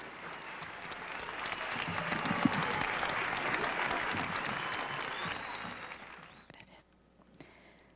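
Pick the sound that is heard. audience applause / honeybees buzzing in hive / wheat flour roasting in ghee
audience applause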